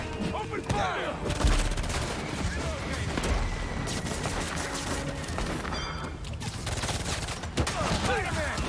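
Gunfire rattles in the video game Marvel's Spider-Man 2 as guards open fire at a prison, sounding as dense overlapping shots and bursts mixed with game effects and shouting voices.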